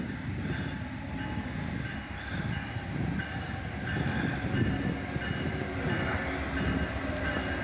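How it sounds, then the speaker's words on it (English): An Amtrak passenger train pulls into Meriden station in Connecticut, led by a heritage-painted locomotive, with a steady loud rumble of railcars, rolling wheels and faint squeals that run throughout. "We got an Amtrak coming into the station."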